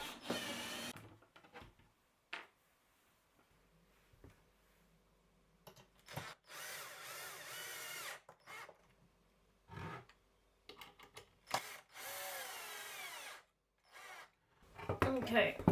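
Power drill backing screws out of a wooden furniture section in short bursts of whirring, separated by pauses, knocks and handling clatter, close and fairly quiet.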